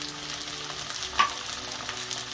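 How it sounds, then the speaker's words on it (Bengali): Capsicum, slit green chillies, peas, turmeric and salt sizzle in a pan for homemade chowmein, a steady soft frying hiss with a faint stir or clink near the middle, close and fairly quiet with no talking. "স্বাদ মতন লবণ দিয়ে এগুলো এখন একটু ভাজা করব।"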